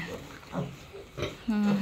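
A sow lying down with her piglets gives short close grunts in a brief burst, with a voice talking over them.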